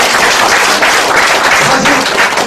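Audience at a lecture at Seoul National University's law school breaking into steady, dense applause, many hands clapping together continuously and loudly throughout, with no voices over it.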